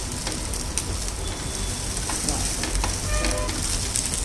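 A breakfast sandwich made without bread sizzles steadily in a hot pan after being flipped, a continuous crackling fry with no talk over it.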